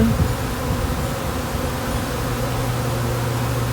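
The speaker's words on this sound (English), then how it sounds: "I got some bees going in." A steady, close drone of many buzzing honeybees during a hive removal fills the air continuously, with no voices.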